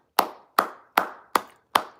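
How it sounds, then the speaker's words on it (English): Five crisp hand claps in a steady, evenly spaced rhythm, each sharp and close with a short decay into silence, from a single person rather than a crowd. "round of applause to Dave Chappelle."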